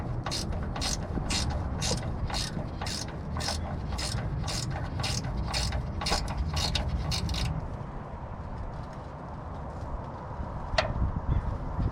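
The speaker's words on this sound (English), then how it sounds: "putting the jack underneath it and just jacking it up, just so I can get this thing out of the way" A jack under a Cadillac DeVille being worked to lift the transmission, a rapid run of regular ratcheting clicks for several seconds before it stops, leaving steady background hum and a single faint tap.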